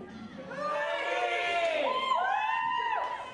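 Neighbors in a Boise neighborhood cheering together, a burst of overlapping shouts and whoops from a crowd, loud and sustained for a few seconds.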